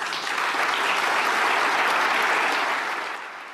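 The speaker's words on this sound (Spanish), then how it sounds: "El auditorio respondió con aplausos medidos" Dense, steady applause from an auditorium audience at a Munich security gathering, holding evenly for a few seconds before tapering off slightly at the end.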